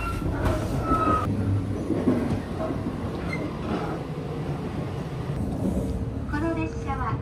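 The Sunrise Izumo sleeper express train, Okayama to Tokyo, rolls along with a steady rumble and rhythmic rattling, with occasional squeals and clicks from the carriage.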